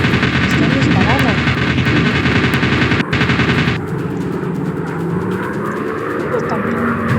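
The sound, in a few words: machine gun fire in aircraft video game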